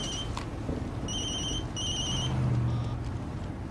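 A cell phone ringtone chirps in short repeated electronic bursts over steady background rumble, moderately loud with no talking.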